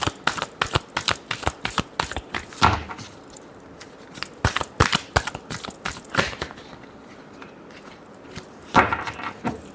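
Tarot cards being shuffled, with repeated bursts of crisp riffling and sharp card snaps, irregular and close, separated by short quieter pauses.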